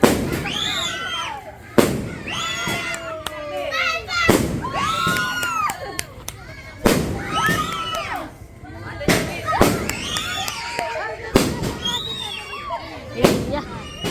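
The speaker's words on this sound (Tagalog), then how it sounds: "papaputokin na yung fireworks" Fireworks pop and crackle outdoors amid a lively crowd, with excited shouting and voices carrying over repeated bursts.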